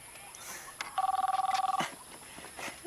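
A telephone ringing during a phone call, one warbling electronic ring tone of rapid pulses lasting under a second, heard through the handset amid quiet room noise.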